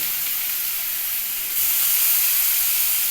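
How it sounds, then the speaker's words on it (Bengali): Garlic and ginger frying in a pan with onions, a loud, even broadband sizzle that swells a little halfway through and holds steady, with no voices. "একটু কষাতে ভাজবো তার সাথে আমি রসুন আদাটাও দিয়ে দিচ্ছি"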